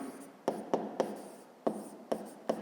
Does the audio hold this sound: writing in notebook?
yes